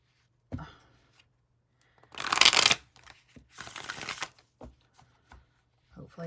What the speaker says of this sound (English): Let's properly shuffle.